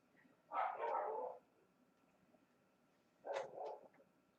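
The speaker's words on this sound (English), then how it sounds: "Somebody's probably walking behind the house with their dog again." A dog barks outside behind a house, two separate short bursts of barking a couple of seconds apart, muffled and fairly distant in an otherwise quiet room.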